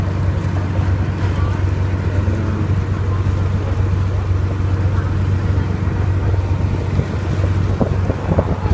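A boat on a river in Ho Chi Minh City drones steadily with a constant low engine hum, wind buffeting the microphone and faint voices underneath.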